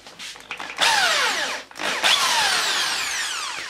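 An electric drill whirs into pallet wood in two bursts, pitch sliding as the bit bites, with a brief pause between them; close and loud.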